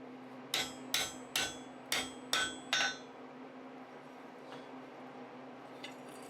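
Hand-forged metal tongs struck with a hammer in a basic blacksmith shop, six sharp ringing blows at an even rhythm, close and loud, followed by quiet room tone with faint light clinks.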